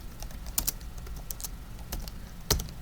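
Computer keyboard typing in short bursts, a handful of distinct key clicks spaced irregularly, close and moderately quiet over faint room hiss, entering code in a programming editor.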